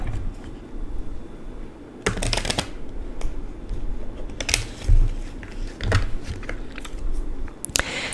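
A deck of cards being shuffled close by, with several quick riffling bursts separated by short pauses over a low room hum.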